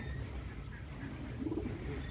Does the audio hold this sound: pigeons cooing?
yes